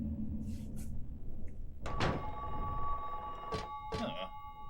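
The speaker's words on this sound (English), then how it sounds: "Sounds like we got a phone call here." A telephone rings in Silent Hill 3: a few sharp bursts of electronic ringing separated by pauses, with soft thuds and rustling in between, heard clearly without talking.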